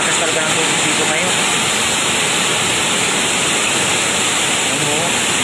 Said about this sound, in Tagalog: napakalakas talaga ng tubig dito ngayon